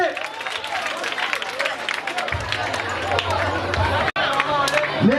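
A school crowd at a National Teaching Day celebration applauds to welcome the teachers. Brisk, continuous clapping mixes with crowd hubbub and voices, and a low steady hum sits underneath partway through.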